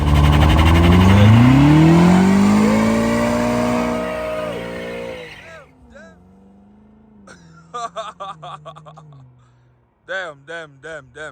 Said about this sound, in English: I'll make it a burnout first.